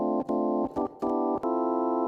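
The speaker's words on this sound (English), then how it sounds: "Here's the sound of a Hammond without a Leslie." Hammond organ played dry without a Leslie speaker, a mellow, steady sustained chord tone broken by several short gaps and chord changes, played alone with no voices.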